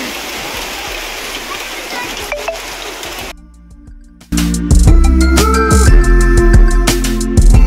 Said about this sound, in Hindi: जोरों की बारिश बारिश बारिश